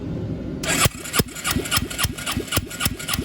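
A 1996 Suzuki Quad Runner 250 engine cranking over during a compression test: starter whine kicks in, then rhythmic chugging compression strokes repeat at an even pace, loud and close, with no voices.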